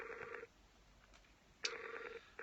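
Outgoing call ringing over a phone line, with two bursts of ring tone separated by a pause and a third starting at the end, moderately loud and heard alone without talk.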